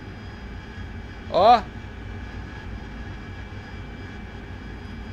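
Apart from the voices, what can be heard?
AV-8B jet engine in the video game DCS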